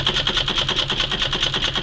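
A domestic high arm fiddlebase sewing machine runs at a steady, moderate speed, its needle beating in a fast even rhythm with a bright mechanical whir, close and continuous throughout.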